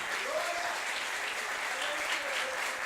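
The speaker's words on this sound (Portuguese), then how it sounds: "Se você crê nisso, aplauda bem forte ao Senhor." Church congregation clapping during a Sunday service, a fairly quiet, even patter of many hands blending with faint crowd voices in the background.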